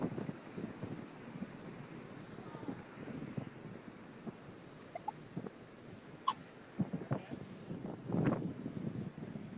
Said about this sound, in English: It's a little bit windy, but not too bad.